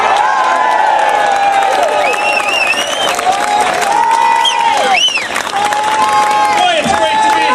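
A large crowd at a Tax Day Tea Party rally in Pittsburgh applauds and cheers without a break, dense and loud, with whoops and shouts rising over the sustained clapping.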